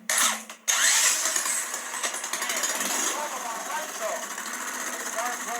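A small nitromethane-fueled miniature engine starts up with a sharp burst, then runs steadily with a high, buzzing rasp close by, at fairly loud level.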